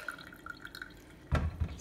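Water tipped out of a salted spaghetti squash drips faintly in small, scattered drops, then spills in a brief louder splash near the end.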